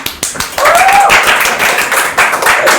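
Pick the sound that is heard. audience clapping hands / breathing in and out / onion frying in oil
audience clapping hands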